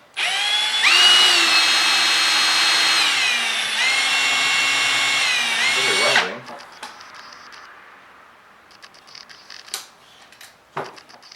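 A power drill whines steadily for about six seconds, its pitch dipping as it bites into plastic, then stops, leaving faint clicks and handling noises.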